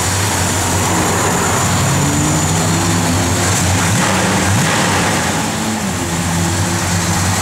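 A 1970 Plymouth Duster with a mild aftermarket cam idles close by, a loud, steady low rumble with a slightly uneven, lopey pulse and no talking.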